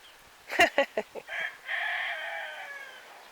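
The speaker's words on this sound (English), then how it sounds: "For now, laughing chicken." Young Ayam Ketawa laughing rooster crowing: a run of sharp, staccato laugh-like bursts followed by a drawn-out wavering trill, moderately close and alone against a quiet background.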